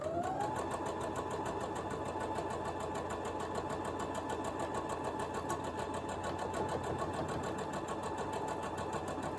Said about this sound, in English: So now I'm going to go ahead and sew this one,